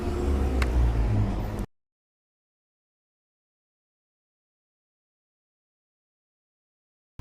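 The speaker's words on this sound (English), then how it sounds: "That second one was a school bus." A school bus drives past with a loud, broad engine rumble for about a second and a half before the sound cuts off to silence.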